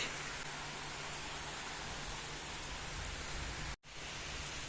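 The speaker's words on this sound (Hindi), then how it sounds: "देखो बाहर लग गई ज़ोरों से बारिश, हवा चल रही है तूफान और बारिश" A steady broadband hiss of heavy rain with stormy wind, dense and unbroken, with a brief dropout near the end.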